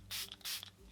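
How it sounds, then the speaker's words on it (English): Two short, close hissing bursts of a Catrice Illuminating Prime and Fine Dewy Glow makeup fixing spray, misted in quick succession with a brief gap between them and no talking. "Now for setting spray."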